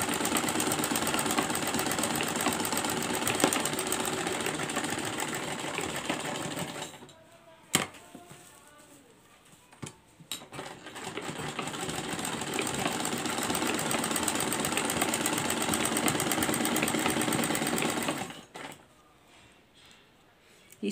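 A sewing machine stitches lace onto a kurti in a steady, fast mechanical whirr that runs for several seconds, pauses with a couple of clicks, then resumes before stopping.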